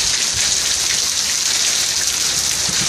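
Steady, dense rain falling and pattering on surfaces, a loud continuous hiss close by with no talking.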